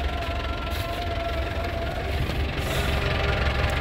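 The engine of a white 2012 Mazda Grand Touring runs with a steady, loud, rumbling idle that continues without a break.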